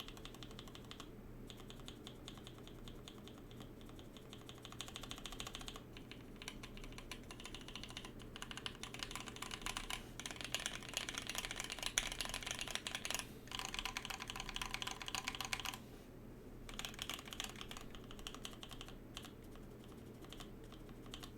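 Keycult No.1 keyboard with lubed Vintage Black switches being typed on, quiet bursts of clacking keystrokes with brief pauses, soft and steady throughout with no voices.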